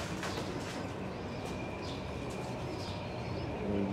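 Pigeons on a rooftop loft, with faint repeated coos and soft chirps over a steady outdoor hiss.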